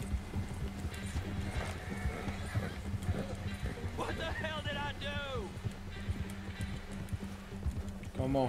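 A horse in Red Dead Redemption 2 gallops with rapid clip-clop hoofbeats and lets out a loud whinny, with game audio and voices mixed in throughout.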